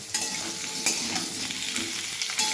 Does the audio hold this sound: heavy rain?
no